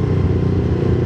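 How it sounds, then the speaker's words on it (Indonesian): A motorcycle exhaust running on Liqui Moly oil gives a loud, close, steady burbling rumble with a rapid, even pulse through the whole short stretch, and no voices over it. "suara knalpotku jadi enak banget."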